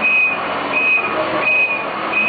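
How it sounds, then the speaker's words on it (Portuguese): A garbage compactor truck hauling eight tons of coconut husks drives along a highway near Rio de Janeiro, its engine a steady loud rumble with repeated high electronic beeps at regular intervals. "acompanhamos o deslocamento do caminhão compactador trazendo 8 toneladas de cascas de coco"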